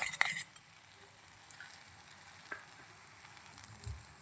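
Egg and gongura paste fry in a pan with a soft, steady sizzle, faint and close, with a few small clinks near the start and no talking.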